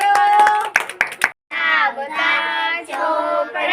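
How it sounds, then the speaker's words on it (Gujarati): A brief burst of children clapping in a classroom, several quick hand claps near the start before a pause, followed by children chanting together in a sing-song rhythm. "બહુ સરસ, તાળી પાડો."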